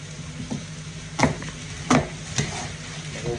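Small diced apples cook in a pot for a homemade peach-apple pie filling, with a soft steady sizzle broken by a few sharp stirring scrapes and knocks and no talking.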